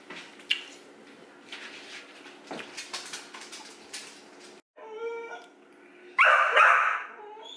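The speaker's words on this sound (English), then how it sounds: "That's my dog." A dog barks and yips a few times, ending in a loud, close burst of barking.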